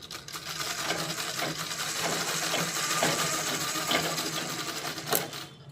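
A Pico sewing machine stitches at close range, giving a continuous fast mechanical whirr with rapid needle clatter for several seconds.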